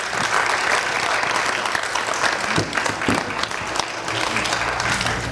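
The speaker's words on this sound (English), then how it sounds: "Let's give them a round of applause." Audience at a kindergarten graduation giving a steady, dense round of applause throughout, many hands clapping together with faint crowd murmur underneath and no talk over it.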